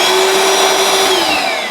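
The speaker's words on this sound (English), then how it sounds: "So if your vacuum is on," A Ryobi 18V cordless vacuum cleaner runs loud and close with a steady high motor whine and airflow hiss, its pitch sliding slightly downward near the end, with no talking.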